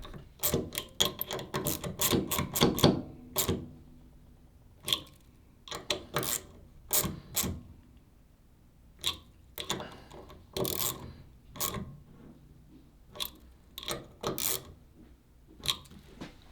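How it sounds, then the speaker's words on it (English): Screws being tightened on a rifle scope mount during a precision rifle build: dense sharp metallic clicks at first, then spaced clusters of small ticks and scrapes, close and alone. "You do the same thing as before, where you tighten one slightly and kind of keep walking back and forth."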